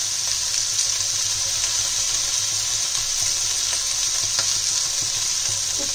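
Paneer cubes toast and fry in a pan with a steady, close sizzle that holds evenly throughout, soft stirring scrapes now and then, no voices.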